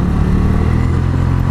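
Honda Elite 125 scooter climbing a steep forested mountain road with a passenger aboard, its engine straining in a loud, close, steady drone under acceleration, with no talk.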